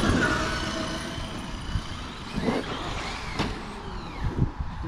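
A Traxxas X-Maxx RC car runs on a figure-eight track, its electric motor whining and rising in pitch as it accelerates, with a faint roll of tyres, moderately distant and continuous.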